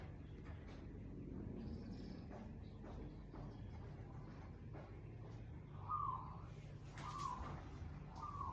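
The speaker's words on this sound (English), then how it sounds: "You hear the birds?" Birds chirp outdoors near an open-air bathroom, a few short faint calls in the latter half over a low background rumble, distant and quiet.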